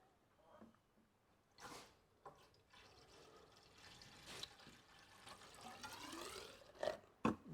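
Quiet, intermittent splashing of water being poured into a Ford Falcon BF windscreen washer reservoir, a few short bursts with soft knocks and handling noises between them.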